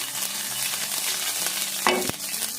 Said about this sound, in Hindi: अब इसमें डालेंगे आधा चाय का चम्मच हम अदरक और लहसुन का पेस्ट। हल्का सा फ्राई करेंगे।